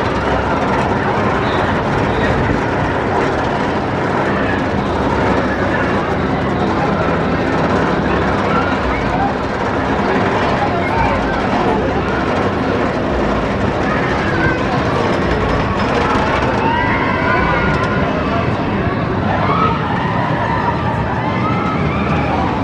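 Continuous loud rumble and rattle of a train on Goliath, a wooden roller coaster fitted with RMC Topper Track steel rails, heard from onboard, with wind roar and distant rider voices mixed in throughout.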